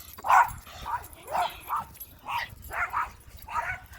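A new puppy barks and yips in a series of short, high bursts about every half second, fairly close and loud in a quiet room.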